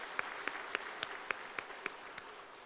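Church congregation clapping in thanks during a Sunday morning worship service, faint and distant, with crisp claps falling in an even, regular rhythm about four per second.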